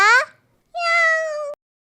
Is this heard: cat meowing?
yes